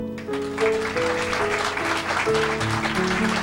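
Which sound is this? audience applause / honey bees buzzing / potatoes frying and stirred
audience applause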